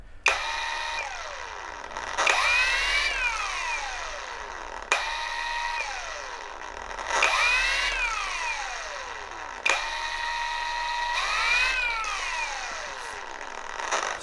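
ShineMate EB351 cordless dual action polisher whirring through three repeated cycles, each starting with a sharp click, revving up in pitch, then winding down as the trigger eases, with a steady mechanical hum throughout.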